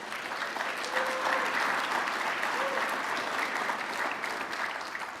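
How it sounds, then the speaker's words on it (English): A packed audience applauds sponsors at a city's state-of-the-city address, a dense, sustained wash of clapping that holds steady for several seconds and tapers slightly at the end. "Let's give them a round of applause"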